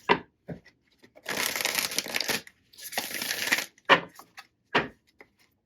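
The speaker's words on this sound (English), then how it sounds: "Let's give it another shuffle here." Tarot cards riffled and shuffled in two long crisp bursts, with a few sharp taps and flicks of cards between them, close up.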